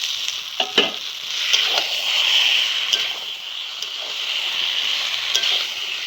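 Vegetables and potatoes fry in a pan in a home kitchen, giving a constant soft sizzle with a few sharper clicks and scrapes of a spatula at irregular moments, close and moderate, with no talking.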